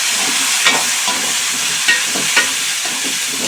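Tomatoes sizzling in pure cold-pressed sesame oil with curry leaves and coriander, stirred in a pan: a loud, continuous frying hiss broken by a few soft scraping strokes.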